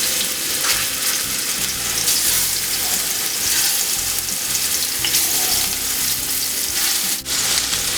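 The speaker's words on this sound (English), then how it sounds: "I'm just going to add our meatballs to the pan" Meatballs about an inch and a quarter across sizzle steadily in a frying pan for Moroccan meatballs, a loud continuous crackling hiss with no talking.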